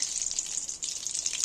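Fish frying in a pan over low heat, a bright continuous sizzle close up with faint crackle, no talk.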